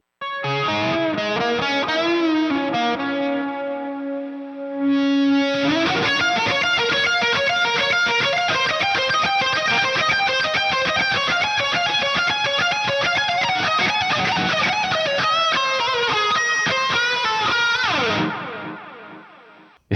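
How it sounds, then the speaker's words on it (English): Electric guitar playing through chorus and delay pedals with the volume knob rolled almost off, a shimmering sustained note and then ringing strummed chords with repeating echoes, trailing off at the end. "Got the chorus pedal kicked on, got the delay on, volume knob rolled almost all the way off."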